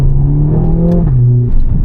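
Mercedes-AMG A45 S hot hatch engine accelerating hard, a loud, close, steady rising drone with a brief drop as it shifts, heard alone without talk.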